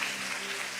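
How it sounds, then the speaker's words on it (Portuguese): A church congregation applauds at a steady, even level throughout, a dense wash of hand claps with no single voice standing out above it. "Você pode dar um aplauso ao Senhor?"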